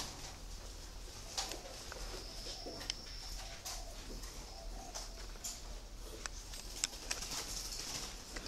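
Turtle doves being transported in a group of about twenty give soft, low coos scattered among faint chirps and light handling noises, quiet and fairly close, without talking.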